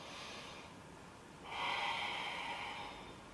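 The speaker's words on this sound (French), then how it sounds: "Voilà, une respiration assez active" Deep, active breathing during a yoga posture, with full breaths drawn up to the collarbones. Steady airy breath sounds run throughout and swell into a louder, fuller exhalation in the second half, close to the microphone.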